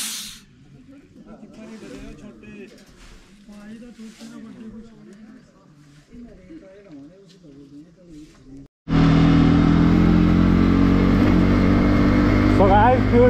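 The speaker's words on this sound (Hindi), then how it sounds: "हवा डाल लेते हैं हम, आगे वाले टायर का सीन ही है" A motorcycle's front tyre being inflated with an air pump, a loud, steady rushing hiss that starts abruptly after a stretch of quieter background noise and carries on to the end.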